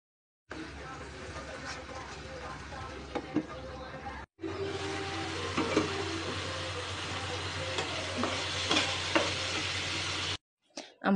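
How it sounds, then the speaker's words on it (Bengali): Onions with turmeric, chili powder and coriander powder stir-fried in a pan, giving a steady close sizzle with scraping stir strokes, cut by a brief pause midway. "এগুলো দিয়ে ভালোভাবে নেড়ে চেড়ে কষিয়ে নেব"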